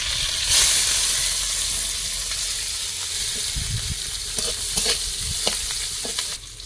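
Onion and green chilli fry with a bay leaf in hot oil in a kadai, giving a steady close sizzle with stirring scrapes and a loud crackle near the start.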